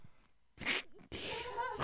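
A person imitates a sneeze with a breathy inhale, then a harsh, noisy burst of air, loud and close, with faint voices before it.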